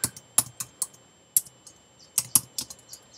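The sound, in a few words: typing a post title on a computer keyboard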